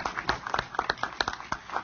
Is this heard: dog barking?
no